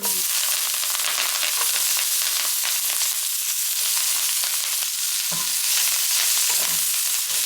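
Pumpkin seeds frying in a pan with shallots, stirred steadily, giving a loud, continuous close-up sizzle with scraping stir strokes throughout and no talking.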